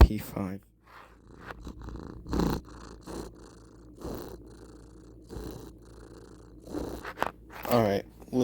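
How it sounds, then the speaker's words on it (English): A cat purrs in the video game Cats are Liquid, a low rumbling purr in uneven bursts, with louder swells and some clicky noise near the end. "Cat purring"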